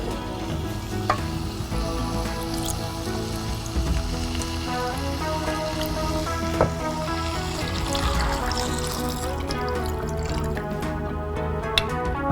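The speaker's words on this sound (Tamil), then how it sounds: "இப்போ வந்து 1/2 கப் தண்ணி ஊற்றிடலாம்." Half a cup of water pours into a hot pan of Pallipalayam chicken, a loud, steady sizzle and bubbling with occasional drips and clinks over twelve seconds.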